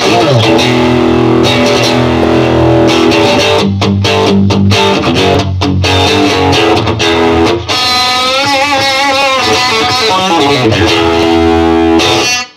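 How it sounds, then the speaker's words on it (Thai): An electric guitar plays through the distortion channel of a Fender Champion 100 amp: loud, gritty, overdriven chords and riffs with sustained crunchy tones and brief gaps, ending in a ringing held chord; a brief voice at the end. "นี่คือเสียงแตก"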